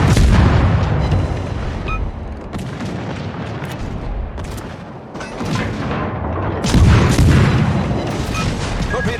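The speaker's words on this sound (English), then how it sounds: "Torpedo hitting the cruiser!" A torpedo strikes a cruiser in the naval combat game World of Warships, setting off loud, dense booming explosions and rumbling blasts that keep coming one after another throughout, with no speech.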